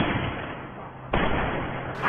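Gunshots fired by Kim Yun in the zombie film Alive: two heavy, booming reports about a second apart, loud and close, with no talking.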